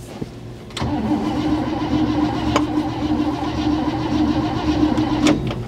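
A 1960 Chevrolet Impala with a leaking carburetor and an engine that has sat for 32 years being cranked by the starter. After a brief click, it grinds on in a steady, continuous whir for several seconds without catching, close and loud.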